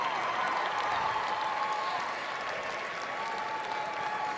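A large crowd at Madison Square Garden fills the hall with sustained, dense applause and cheering during the Westminster dog show, steady and loud throughout and fading slightly toward the end.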